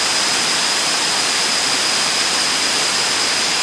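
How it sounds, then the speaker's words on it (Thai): Rushing river water in a mountain setting near Tha Song Yang, a steady, dense broadband roar with no pauses, loud and close throughout with no voices. "ดูจากน้ำไหลเชี่ยวน้ำไหลแบบสุดยอดนะฟังเสียงธรรมชาติครับ"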